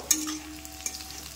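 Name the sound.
green chillies frying with onions in a pan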